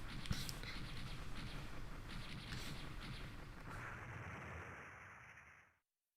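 Game explosion from Mega Man X3 on the Sega Saturn, a loud sustained rumbling blast with crackling debris that holds steady for about five seconds before cutting off abruptly.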